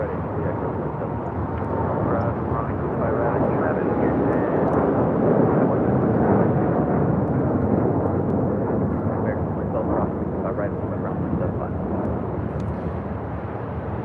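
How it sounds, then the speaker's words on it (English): A United Airlines Boeing 787-10 Dreamliner takes off at LAX, a broad, steady, moderately loud engine roar holding throughout without clear peaks, with dry wind buffeting the microphone. "This is United Airlines Flight 32 taking off to Tokyo Narita on a 787-10 Dreamliner."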